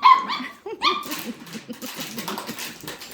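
A dog under a bridge gives a few sharp yips and barks close by, then whimpers and whines more softly, with faint voices in the background.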